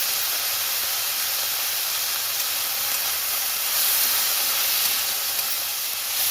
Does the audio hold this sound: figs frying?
yes